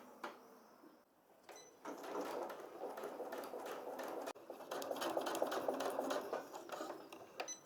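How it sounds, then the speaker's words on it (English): A sewing machine stitching elastic trim onto thermal sun shades for a campervan, close and fairly quiet, running in two sustained bursts of rapid whirring after a short pause, with no talk. "Catherine's tinkering with the sewing machine, getting it all set up"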